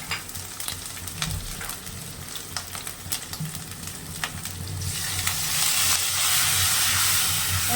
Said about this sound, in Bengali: ভালো করে কষাতে হবে যত সময় কাঁচা গন্ধ না যাবে মশলা